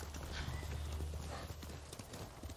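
Horse hooves clip-clopping at a gallop in the video game Ghost of Tsushima, a steady rapid rhythm under low game ambience and music, close and moderately loud, with no speech.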